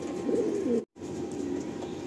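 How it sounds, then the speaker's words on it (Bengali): A pigeon in a loft in Kolkata coos softly and close by, a low throaty burbling call, then a brief cut to silence before quieter ambient noise of the loft continues. "খুব সুন্দর একটা পায়রা দেখুন"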